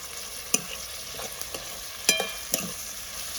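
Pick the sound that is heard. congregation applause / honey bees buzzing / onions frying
onions frying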